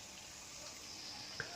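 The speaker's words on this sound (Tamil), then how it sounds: "கண்டினியூ வருது பாருங்க நல்லா ப்ரெஷரா" Water flows under pressure from a 500-litre reverse osmosis plant, a faint, steady hiss of running water with one brief splash or tap near the end.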